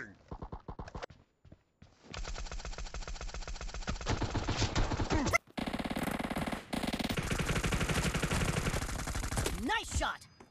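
Gunfire in a mobile shooter video game, rapid bursts of rattling shots in several stretches separated by brief gaps, loud and close with game effects mixed in.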